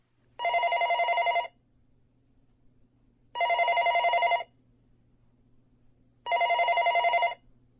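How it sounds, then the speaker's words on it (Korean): A telephone rings in a Seoul home at dawn, three long bursts of ringing separated by pauses of silence, close and clear with no voices. "서울 자택으로 한 통의 전화가 울리고 있었다"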